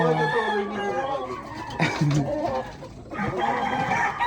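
A rooster crows loudly nearby, with hens clucking around it in a busy farmyard.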